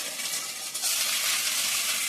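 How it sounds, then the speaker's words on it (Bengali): Vegetables and crumbled egg bhujia sizzle and crackle loudly as they are stir-fried in a pan, a steady hiss that swells after a brief stir, with no talk. "সবজিগুলো আমার ভাজা গেছে, ডিম ভুজিয়াটা দিয়ে দিলাম। দিয়ে নেড়ে নিচ্ছি।"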